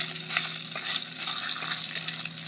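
Ginger paste frying in hot oil, a close, steady sizzle with crackling pops and occasional stirring scrapes, heard alone.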